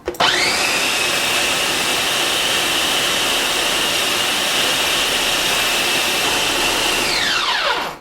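A Farberware food processor chops basil for a bean spread, its motor whirring loudly and steadily for about seven seconds before spinning down.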